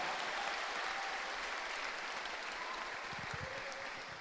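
A church congregation claps steadily through a finance conference sermon, a dense, even wash of applause that holds for several seconds and eases slightly near the end, with no talking over it.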